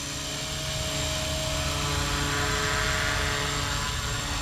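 A small Blade Fusion 180 SMART RC helicopter flies close by with a constant high-pitched rotor whine and steady buzzing motor drone, no pauses.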